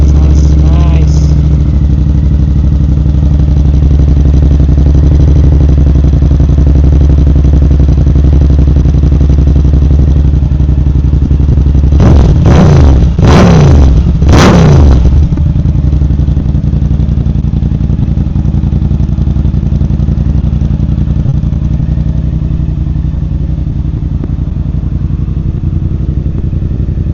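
Yamaha R7 motorcycle with a full aftermarket Yoshimura or Akrapovic exhaust, idling with a deep, steady, loud, close rumble, then revved in several quick sharp bursts before settling back to idle.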